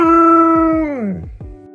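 A dog gives a drawn-out howling bark that slides downward, followed by a couple of short yips, close and clear with no talk.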